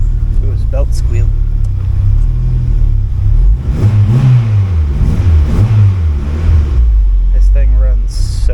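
A turbocharged Honda B16 car engine idles loudly up close, then revs up and down through a rising and falling whine before settling back to a steady idle, with a voice briefly over it.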